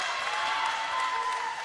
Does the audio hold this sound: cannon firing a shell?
no